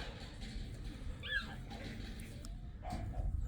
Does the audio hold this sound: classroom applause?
no